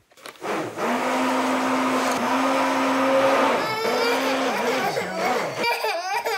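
An electric blender whirs steadily at close range while making purée, its motor pitch wavering and dipping as it runs for several seconds, with a young child's laughter and vocal sounds over it.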